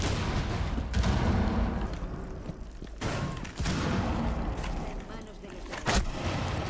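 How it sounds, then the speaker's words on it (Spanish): Shotgun blasts in the Rainbow Six Siege video game, several sharp booming shots spaced a few seconds apart over a busy mix of game noise, with someone talking throughout. "Un escopetazo, tú"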